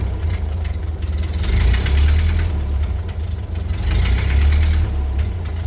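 A Ford Model A engine runs steadily just after starting with the choke let off, a close, rough low rumble that swells and eases slightly, with no voices.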